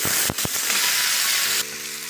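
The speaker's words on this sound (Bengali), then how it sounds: "কড়াইতে আমি আলুগুলোকে ছেড়ে দিচ্ছি" Potato pieces drop into hot oil in a kadai and fry with a dense, steady sizzle close up, marked by a couple of sharp clunks early on and a faint hum later, with no speech.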